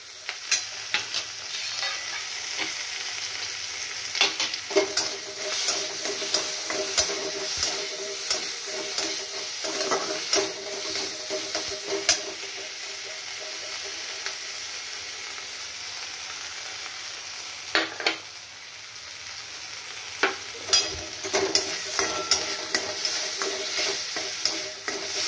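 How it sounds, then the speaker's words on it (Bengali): Ginger paste fries in a pan with green chillies, giving a loud, continuous sizzle. Frequent sharp scrapes and clicks of a spatula stirring come from close by, with no talking over it. "এবারে দিয়ে দিলাম"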